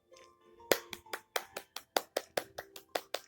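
Applause from the Township video game: a run of about a dozen crisp, evenly spaced claps, fairly close and clear, with no talking over it.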